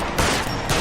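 Two sharp gunshots in the video game L.A. Noire, fired close together as loud, punchy cracks with no talk.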